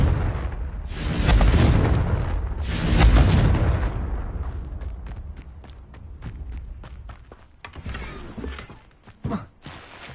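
In the Hogwarts Legacy video game, a Confringo fire spell erupts in two loud, rumbling blasts early on, followed by a string of sharp, quieter impacts and footsteps trailing off.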